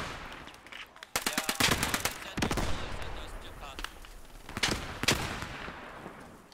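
Machine gun fire in the World War II shooter Post Scriptum during an attack on the Driel rail bridge: loud, rapid bursts of automatic fire that start and stop several times over a constant background of game noise.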